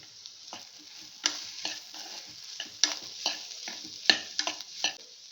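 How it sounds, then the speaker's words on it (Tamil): Potatoes being stirred in a frying pan: a series of sharp scraping and tossing bursts from a spatula, spaced a second or so apart, over a soft continuous sizzle, close and clear with no talking. "உருளைக்கிழங்கு போட்டுடலாங்க போட்டு நல்லா வந்து கிண்டிக்கலாம்"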